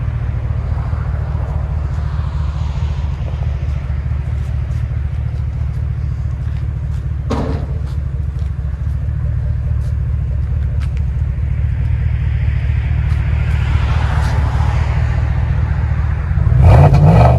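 GMC Sierra 1500 AT4 pickup with the 6.2L V8 and an aftermarket muffler rumbling deep and steady at idle close by, building slightly louder toward the end with a brief rev.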